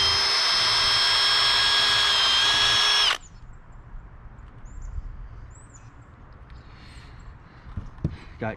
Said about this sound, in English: I'm going to start with a 1/2 inch pilot hole